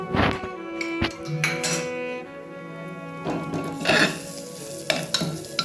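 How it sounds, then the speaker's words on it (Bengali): Drained rice fries in ghee in a pan for a jaggery payesh while being stirred, a steady sizzle broken by clinks and thunks of the spoon against the pan, close and fairly loud. "চালটাকে একটু নেড়ে দিচ্ছি চালটাকেও হালকা করে ভেজে নিয়েছি"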